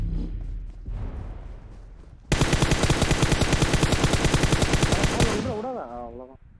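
Rapid automatic gunfire in a battle royale shooter, a sustained loud burst of about three seconds after quieter ambient game noise, then fading into a ringing tail; a voice talks around it.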